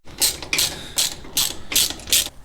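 A hand ratchet tightens the lower front shock bolts on a 2WD Dodge Dakota truck, giving six quick bursts of loud, close metallic clicking in a steady back-and-forth rhythm with no speech.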